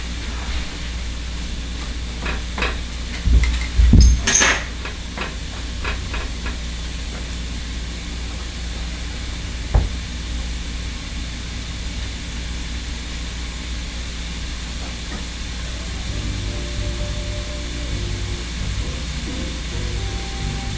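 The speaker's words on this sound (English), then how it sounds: "And we'll just let those simmer for a little bit" Mushrooms simmer in an omelette pan with a steady hiss, a short clatter of handling near the start, then a continuous sizzle running alone.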